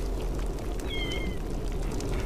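A cat in the video game Fallout 76 lets out one brief, faint meow partway through, heard over a steady bed of game ambience.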